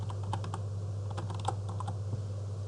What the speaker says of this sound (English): So now we need to type this in before we get ourselves confused.